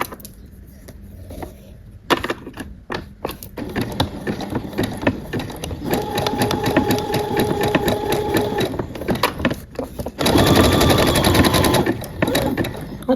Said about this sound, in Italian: Adesso alzo solo il piedino, l'ago sta giù e continuo.